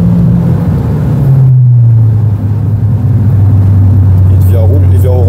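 A Renault Clio 4 RS Trophy with a 220 hp engine, heard from inside the car as it accelerates, with a loud, sustained engine drone shifting in pitch while people talk over it.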